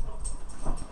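A Saluki pants and whimpers close by with soft, uneven breaths, and no one talks over it.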